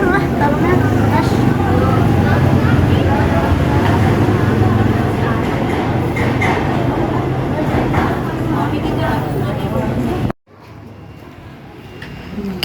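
Steady rumble of a KRL commuter train running toward Nambo station, broad and continuous for about ten seconds before cutting to a quieter interior hush, with faint voices mixed in.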